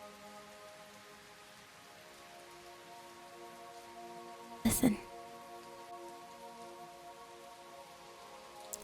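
Gentle rain patters steadily on windows, a soft continuous hiss that stays even throughout, briefly interrupted by a single spoken word.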